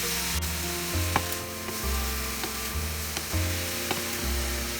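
Grated mooli (radish) frying in a pan, with a steady, loud sizzle and crackle throughout and intermittent stirring and scraping against the pan.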